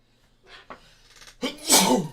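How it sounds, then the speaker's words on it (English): A single loud sneeze bursts out after a few quiet breaths and small vocal sounds, close to the listener. "I'm gonna sneeze."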